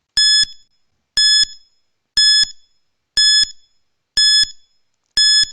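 Quiz countdown timer in a class 10 science lesson, six loud, evenly spaced electronic beep bursts about one second apart, alone with no talk.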